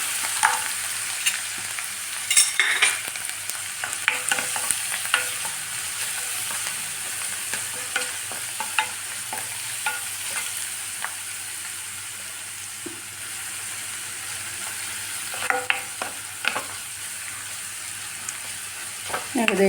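Green chillies fry in a pan with a soft, continuous sizzle, while intermittent stirring clinks and scrapes sound close by across the whole stretch with no speech.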